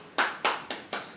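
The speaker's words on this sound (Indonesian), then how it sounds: "mari kita beri aplaus untuk" A group claps for classroom groups in a teaching simulation, four sharp, evenly spaced claps in unison, close and clear, with no talk.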